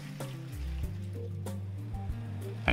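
Clean water poured into a plastic mixing bucket for self-levelling compound, a quiet, continuous filling gurgle with the pitch shifting as the bucket fills, heard close and alone.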